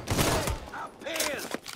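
Mafia 3 gunfire plays out as a burst of sharp shots. Someone talks excitedly over the shots, and the shooting is close and loud, broken by short pauses.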